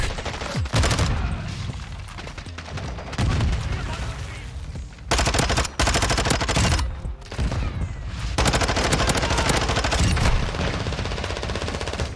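Dense gunfire rattles through a Modern Warfare 2 match, bursts of automatic shots packed close together with brief gaps, loud throughout, with game voice lines mixed in.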